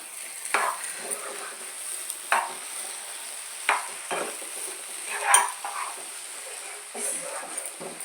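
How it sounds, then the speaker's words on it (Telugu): Brinjal and egg fry is stirred in a pan, with a spoon scraping in short, irregular strokes every second or so over a faint background sizzle. "ఇప్పుడు మధ్య మధ్యలో కలుపుకుంటూ ఉండాలండి"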